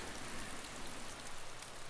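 Steady heavy rain in the video game DayZ falls in a constant dense hiss, close and even throughout, with no voices.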